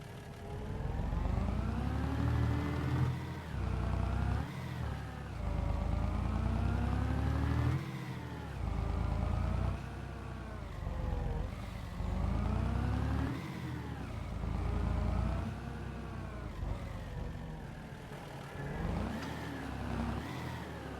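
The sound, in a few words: Peterbilt 10-wheeler truck engine in video game Farming Simulator 22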